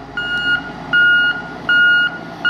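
A large truck's backup alarm gives three loud, evenly spaced steady beeps over a low engine rumble.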